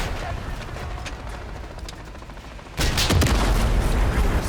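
Gunfire in a Call of Duty Modern Warfare 3 campaign battle: a distant rattle of shots that turns abruptly into loud, sustained heavy firing and blasts partway through, with game dialogue around it.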